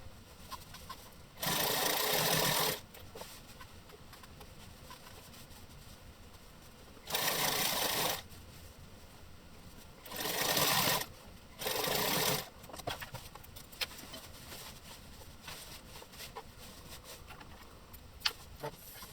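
A sewing machine stitches along a folded edge of boxer shorts fabric in four bursts of steady whirring, quiet pauses between them, close and clear.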